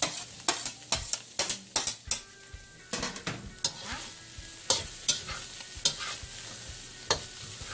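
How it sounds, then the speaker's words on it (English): Onions sizzling in a pan while a spoon or spatula scrapes and stirs, sharp clinks and scrapes against the pan over a steady frying hiss, quite close, with no talking. "Now it says to cook the onions until they're nice and soft."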